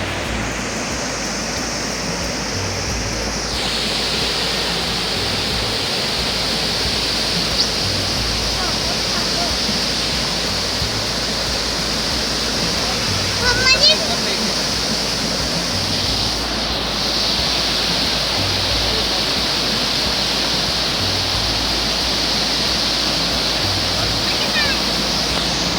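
Flooded Nala Bhimber stream in Bhimber, AJK, swollen by rain, rushes as a loud, steady broadband roar of churning water, constant for the whole stretch with only brief faint disturbances.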